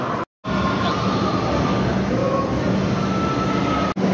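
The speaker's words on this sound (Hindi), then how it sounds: "तो ये वो फुली एक मेट्रो आया है" A metro train pulls into an underground station in Kolkata, a steady loud rumble of wheels and carriage noise filling the platform throughout, with a brief dropout near the start.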